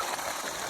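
Water gushes from an electric water pump motor placed in a new well, a brief, steady hissing rush under a second long with no voices.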